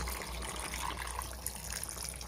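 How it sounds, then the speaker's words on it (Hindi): Water poured into a pan of mixed vegetables being cooked in a home kitchen, a steady close splashing gush with sizzle running throughout, no voices. "थोड़ा सा पानी डाल देता हूँ"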